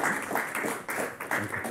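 An audience applauding after a presentation at a role model session: steady, dense clapping from many hands, fairly close, continuing without pause.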